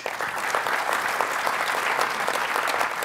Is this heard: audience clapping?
yes